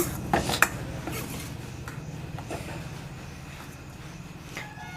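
A few sharp metallic clinks and scrapes early on as fried flat bean seeds are moved onto a metal plate, then quieter background noise.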